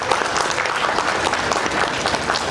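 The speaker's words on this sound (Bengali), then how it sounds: "আপনারা একটু সকলে হাততালি দিয়ে ওদেরকে একটু উৎসাহিত করুন" A festival audience applauds student performers in a dense, continuous burst of many hands clapping, loud and close, filling the whole moment with no break.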